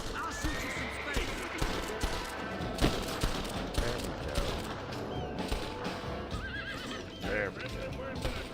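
Gunfire in Red Dead Redemption with horses whinnying and clip-clopping nearby, sharp scattered shots cracking under continuous voices and a busy game soundtrack.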